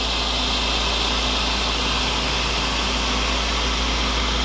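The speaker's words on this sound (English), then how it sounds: "we just hit the start button. It'll do a vacuum." Screen printing exposure unit drawing its vacuum, a steady, loud, broadband whooshing hum that holds constant throughout with no talking.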